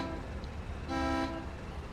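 A vehicle horn in the war game Foxhole gives one sustained honk of about half a second, rising clearly above a low, steady background rumble.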